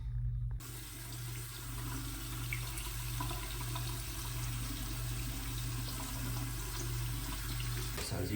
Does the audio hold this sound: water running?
yes